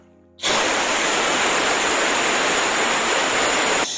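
Moisture bursting from the drain plug at the bottom of an air compressor used for spray painting: after a brief quiet moment, a sudden loud, steady hiss of spraying water and air that continues for about three seconds before stopping abruptly.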